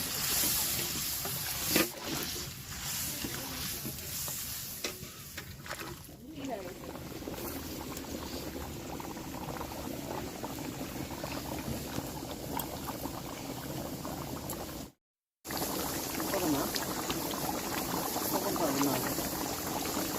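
Hot water is poured into a simmering Bengali mutton curry, giving a steady bubbling, rushing liquid noise that runs almost unbroken, with a brief silent gap and a voice speaking over parts of it.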